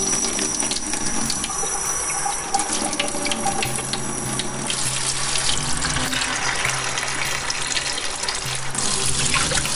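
Tap water runs steadily into a pot, a continuous gushing splash with a slight shift in tone as the level rises, filling it for cooking masoor dal.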